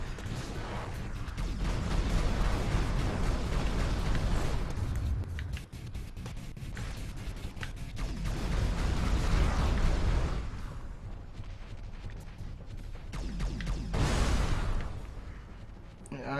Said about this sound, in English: Weapon I'm using here. It's like an artillery gun.